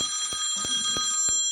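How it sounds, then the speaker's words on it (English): An incoming call rings a phone with a steady electronic tone, pulsing about three times a second, fairly faint but continuous across the brief stretch. "because I'm getting a phone call"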